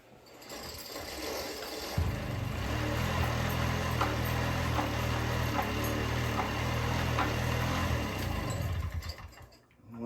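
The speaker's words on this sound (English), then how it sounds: "Turn the fuel on, and we've got the key on." A 1978 Honda Hobbit moped engine fires up after a moment and runs at a steady buzzing idle for several seconds, close and fairly loud, then cuts off near the end.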